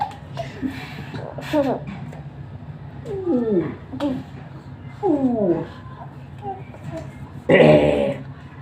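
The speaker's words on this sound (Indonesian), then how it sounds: "Kucing gue ya" A pet cat meows several times in short, rising-and-falling calls, close by, amid a lively household with children and adults chattering and laughing around it.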